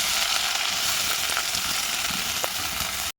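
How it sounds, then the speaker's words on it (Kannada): Onions frying in oil with moong dal in a pan for tomato chutney, an even, loud hiss of sizzling with scattered crackles, steady throughout and ending abruptly. "ಹೆಸರುಬೇಳೆ ಎಲ್ಲ ಚೆನ್ನಾಗಿ ಫ್ರೈ ಆಗಿದ್ದಾದಮೇಲೆ ನಾನು ಈರುಳ್ಳಿನ ಹಾಕ್ತಾಯಿದ್ದೀನಿ"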